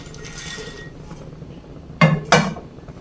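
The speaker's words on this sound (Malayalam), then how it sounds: "ഇത് നമുക്ക് ഈ ബൗളിലേക്ക് ഇട്ട് കൊടുക്കാം." Roasted makhana (fox nuts) tumble into a bowl in two quick, close rattling bursts, light and crisp, after a brief quiet stretch.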